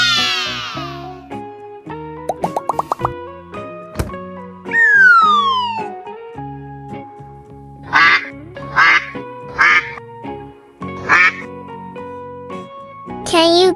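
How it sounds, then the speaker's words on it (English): Duck quacking in a sequence of short, loud, nasal quacks, several close together in the second half, mixed with other brief animal-like calls and tones earlier, nearby and clear. "Duck."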